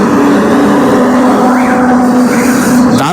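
A motorcycle cruises along a highway on a cold, foggy morning, with a loud, steady engine drone and rushing wind heard close up, the pitch shifting slightly near the end.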